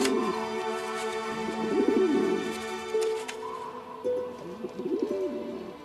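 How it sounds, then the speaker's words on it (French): A homing pigeon cooing in an animated children's show, soft repeated throaty coos in two phrases over a sustained musical background. "Ce pigeon voyageur transportera vos lettres."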